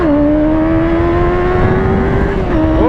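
Suzuki Bandit 650 motorcycle with a full, unrestricted engine, ridden and held at high revs as a loud, steady engine tone that shifts and dips briefly near the end, heard close without talk.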